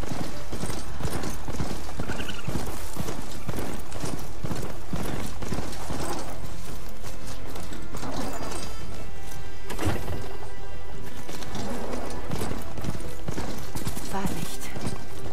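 Hooves clip-clop steadily as a mechanical horse is ridden in the video game Horizon Forbidden West, a loud, regular trotting rhythm that runs throughout, mixed with game music and effects.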